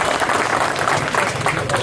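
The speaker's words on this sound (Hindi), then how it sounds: "जोरदार तालियां बजाकर स्वागत करें" Crowd at a political public gathering clapping loudly to welcome the Madhya Pradesh finance minister, a dense continuous burst of applause close and steady throughout.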